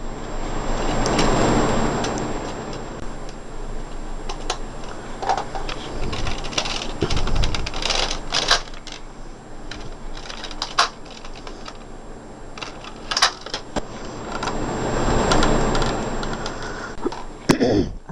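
A knitting machine carriage working across rows, giving a run of rattling, clicking mechanical passes with sharp ticks and swells of sliding noise, alone with no talking.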